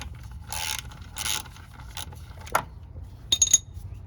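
Bolts on the fuel filter tray of a 2024 Ford F-250 with the 6.7L Powerstroke diesel are loosened by hand, giving scattered metallic clicks, scrapes and small rattles close by. No one talks.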